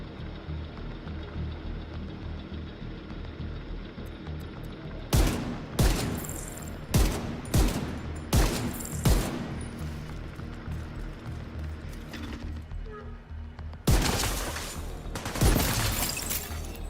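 Bursts of M4 rifle fire in a video game, sharp loud cracks in short volleys with pauses between them, then a denser rapid burst near the end, over a quiet electronic background hum.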